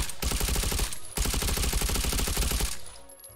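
Suppressed gun firing in the VR game Hot Dogs, Horseshoes & Hand Grenades, two sustained bursts of rapid muffled shots with a brief gap between, close and steady, no talk.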